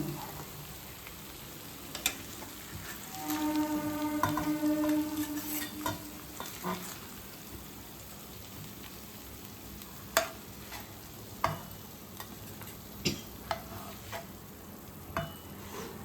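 Fish curry fries in oil in a pan, with a soft, continuous sizzle broken by occasional sharp scrapes and clacks as it is stirred.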